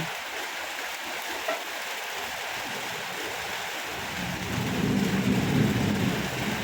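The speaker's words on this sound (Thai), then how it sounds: "เอ้ยฝนตกเลยเด้อค่ะ" Rain pours in a dense, steady hiss while low thunder rumbles in and swells louder toward the end, with no talking.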